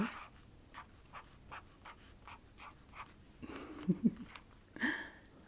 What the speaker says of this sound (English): I'll take this sunny yellow one and write